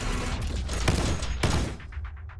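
Rapid bursts of gunfire from the first-person shooter Combat Master crackle loudly and densely, with two sharper shots standing out before the firing trails off into short echoing pops.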